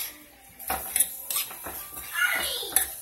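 Hamburger meat and onions being stirred into sauce in a pot, with a few scattered scrapes and clinks of a utensil against metal, a wet bubbling stir in between, and quiet pauses.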